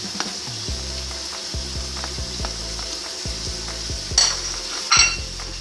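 Harissa frying in a pot for chicken soup, a steady close sizzle with the spoon stirring and scraping through it, a few sharper metallic clinks near the end, no talking.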